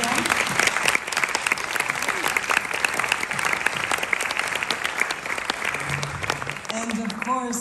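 An audience in Toronto breaks into sustained applause to welcome speakers at an opening event, a dense, even clatter of clapping that carries on steadily throughout before tapering near the end.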